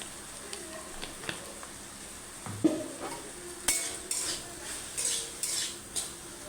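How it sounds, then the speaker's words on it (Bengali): A utensil stirs spiced potato samosa filling with ginger, green chili paste and ground coriander and cumin in a pan, giving scattered metallic clinks and scrapes, with a few sharper knocks in the second half and a low background hum. "আলুটা নাড়বো"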